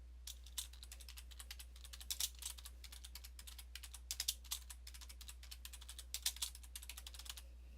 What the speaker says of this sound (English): So I'm just going to type it in.